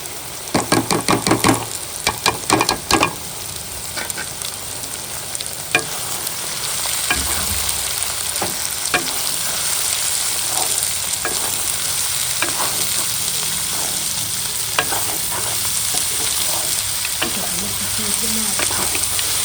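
Onions frying in a pan in a village kitchen, a steady close sizzle with frequent stirring clatters and sharp utensil knocks, a busier burst of clanking at the start, and faint talking in places.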